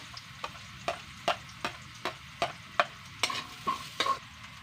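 Garlic frying in a pan with ginger, a low sizzle under a steady run of sharp spoon taps and scrapes, about two per second, close and with no speech.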